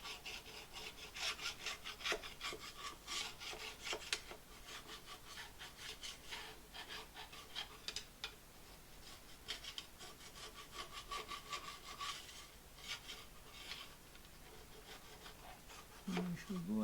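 A hand file scrapes back and forth along the metal edges of a repaired lathe tailstock quill, making repeated rasping strokes that are fairly quiet and close, with a brief low knock near the end.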